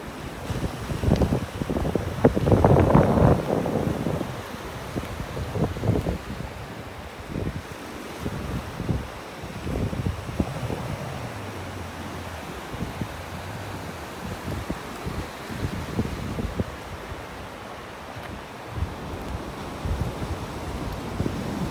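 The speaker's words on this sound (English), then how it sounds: "Waves." Surf rolls onto a beach in North Naples, Florida, a steady wash of waves with a louder break early on, under gusty wind buffeting the microphone.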